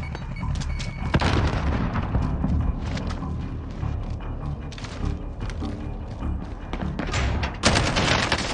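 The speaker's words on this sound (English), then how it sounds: "Grenade out!" A grenade goes off in a video game, making loud, dense booming blasts with continuous crackling gunfire and a sharp burst near the end, all packed tightly together throughout.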